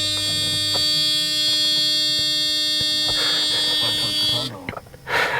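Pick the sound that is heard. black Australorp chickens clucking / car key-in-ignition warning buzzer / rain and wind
car key-in-ignition warning buzzer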